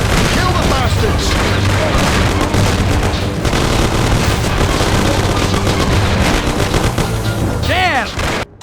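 Heavy gunfire in the Mafia (Classic) game, a loud dense barrage of booming shots and rapid bursts that keeps going, with shouting voices mixed into the chaos.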